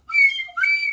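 A slide whistle plays two short, bright gliding tones in quick succession, loud and close with nothing else around it.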